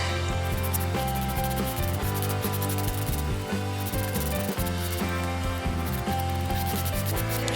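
Chalk paint scraped across a stencil screen, a steady close rasping rub that runs unbroken the whole time, with no talk.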